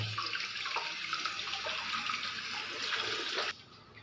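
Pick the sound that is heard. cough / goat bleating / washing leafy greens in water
washing leafy greens in water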